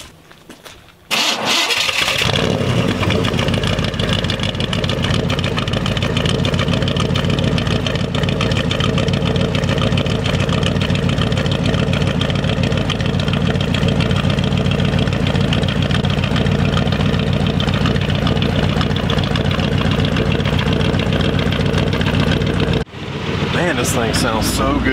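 A 1970 GMC 4x4 pickup, brought back to running after sitting for ten years, cranks briefly and catches, then settles into a loud, steady, rumbling idle that runs for about twenty seconds before cutting off.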